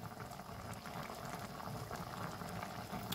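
Banana and coconut milk dessert simmering in a pot, giving a steady bubbling boil with dense popping and fizzing that holds at an even level throughout, close by and alone.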